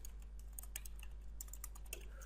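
Computer keyboard typing while entering code and form values for a CodeIgniter login panel, a steady run of light, close clicky keystrokes over a faint low hum, with no talking.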